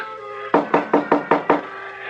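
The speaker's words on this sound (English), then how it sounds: "Is someone knocking at the door?" Six firm, evenly spaced knocks on a door in a radio drama, close and clear, with no voices over them.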